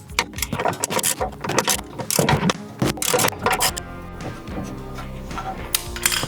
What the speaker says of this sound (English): We're going to go ahead and remove this one.